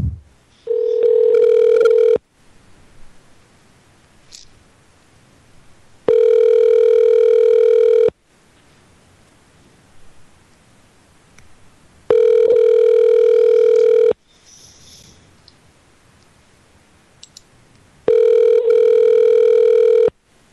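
A phone line rings back four times on a call to a winery shop. Each ring is a steady two-second tone, separated by about four seconds of near silence.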